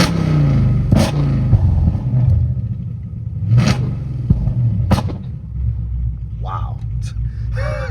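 A car fitted with an exhaust flame kit revs after a spark plug change, giving loud engine rumble with sharp whooshing pops from the exhaust, several bursts spaced a second or two apart, heard outdoors.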